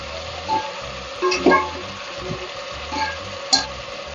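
Tomatoes and chili powder frying in a pan for homemade Tamil-style paruppu sadam, a steady close sizzle with a few louder stir-and-scrape bumps from the spoon and no talking.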